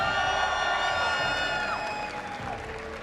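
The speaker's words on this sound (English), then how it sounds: "Have a very raucous crowd ready to welcome the players here for our grand final" Raucous crowd cheering and whooping at the IEM Sao Paulo StarCraft 2 grand final, a dense, sustained roar of a large audience with whistles and shouts, filling the arena at moderate loudness without a break.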